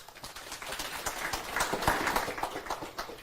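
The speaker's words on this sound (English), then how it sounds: "Let's clap for her." An audience claps to welcome Dr. Agnes Wahome, a guest on a talk show. The applause is steady but fairly faint, with dense scattered claps that swell slightly midway and then ease off, and no voices come through.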